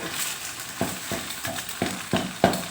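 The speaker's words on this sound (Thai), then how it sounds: "ไข่ของเราก็เริ่มสุกแล้ว ทำยีๆ ให้มันเป็น ชิ้นหน่อยเนาะ ไม่ใช่ว่าไปคนให้มันเละเนาะ" Egg and pumpkin stir-fried in a pan make a soft, steady sizzle, with a spatula scraping and tapping at regular intervals close by.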